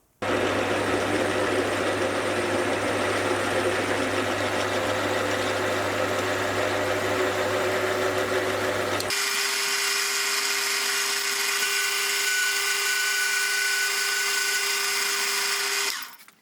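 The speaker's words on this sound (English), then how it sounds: "start counterboring with an end mill" A lathe counterbores with a flat-bottomed end mill, a steady machining whine that runs loud and continuous, shifting pitch partway through as the cut changes, ending after about sixteen seconds.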